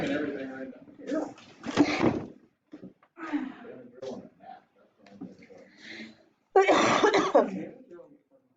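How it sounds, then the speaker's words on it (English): A person coughs and clears their throat several times in short, sharp bursts, close by, between stretches of ordinary talk. "you'll have to excuse me if I'm coughing every now and then"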